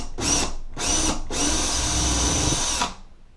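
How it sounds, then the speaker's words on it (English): A power drill bores anchor holes through drywall for a towel rack, in three loud close bursts: two short pulses and then one longer steady whir before stopping. "now we'll go ahead and drill our holes for the anchors"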